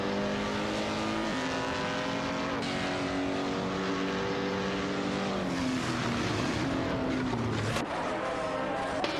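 Race cars, among them a German Maserati, roar through a video game race in a loud continuous engine drone, with pitch climbing and dropping through gear shifts.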